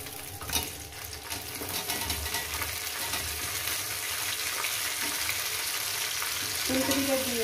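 Cauliflower florets frying in a pan of oil for a potato and cauliflower poppy seed curry, crackling and sizzling steadily with stirring clatter. A faint tonal sound rises near the end.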